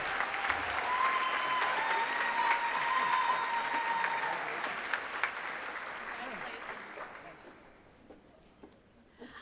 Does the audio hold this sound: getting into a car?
no